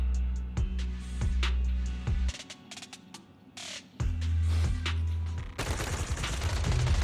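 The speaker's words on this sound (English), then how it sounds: "gunfire erupts like a relentless downpour" Repeated gunfire bursts in the video game Zenless Zone Zero, sharp cracks and rapid volleys over a low rumbling backdrop, loud and close with no talking.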